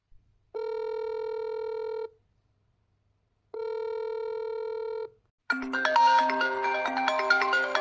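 Two long ringback tones from an outgoing phone call, each lasting about a second and a half with a pause between, followed by a burst of louder, busy tonal music or ringtone at the end.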